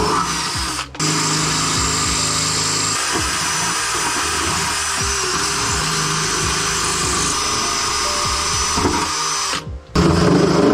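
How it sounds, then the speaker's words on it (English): A power drill bores a hole during car power steering work on a Mitsubishi Eclipse GSX: a steady loud whine runs for about nine seconds, with brief stops near the start and end. "time to drill that second hole."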